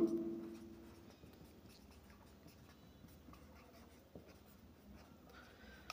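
A pen scratches steadily on paper while a maths solution for an area problem is written out, faint and close, with soft stroke-by-stroke rhythm after a brief tonal blip at the start.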